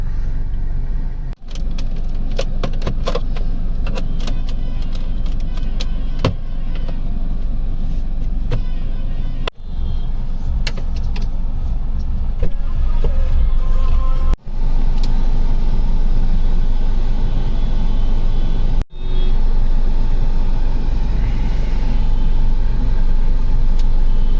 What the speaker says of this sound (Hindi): चलो पहले गाड़ी लगाते हैं इनकी दुकान के आगे